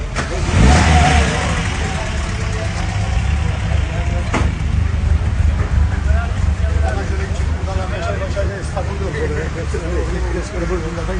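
Classic car engines rev and idle as race cars pull away from a marina at a Turkish classic car championship, a loud rising burst early, then a steady rumble with people talking over it throughout.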